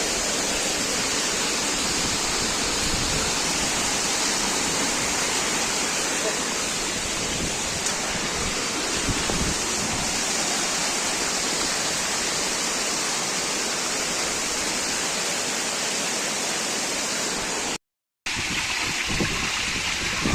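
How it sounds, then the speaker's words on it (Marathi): Waterfall on Brahmagiri mountain near Trimbakeshwar, its dense, unbroken rushing roar filling the whole stretch at steady loudness, broken only by one brief dropout near the end. "किती भारी कोसा होतोय धबधबा"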